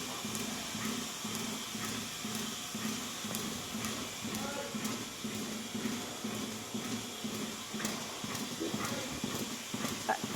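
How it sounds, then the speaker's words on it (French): Dairy cows walk into a milking parlour, their hooves clopping irregularly on a hard floor amid a constant mechanical hum and faint background voices. "les vaches sont en train d'arriver"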